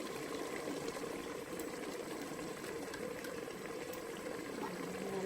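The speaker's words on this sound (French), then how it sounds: "Je vais laisser encore un peu mijoter et je vais continuer ma soupe" A pot of chorba soup with tomato purée simmers gently, giving a soft, continuous bubbling hiss at low volume throughout with no talk.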